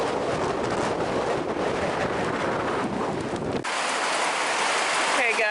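Steady outdoor rain hisses loudly and evenly on surfaces for several seconds, with wind buffeting the microphone, then the rain sound thins abruptly partway through.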